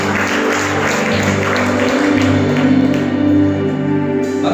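Church congregation at a Friday worship service cheering and applauding together, a steady dense wash of clapping and voices mixed with sustained music throughout.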